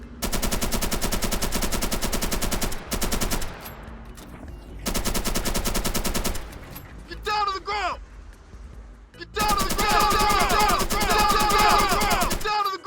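Police gunfire in a GTA-style video game: dense bursts of rapid automatic shots in several long loud stretches, broken by brief quieter gaps, with game sounds in between.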